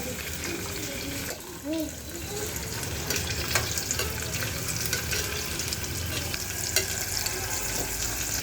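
Onion frying in a pan and being mixed: a dense, continuous sizzle with scraping and stirring noises and a brief dip near the start, close and fairly loud, with no speech.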